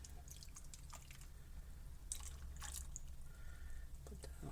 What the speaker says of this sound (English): Just pour it on top of the roast.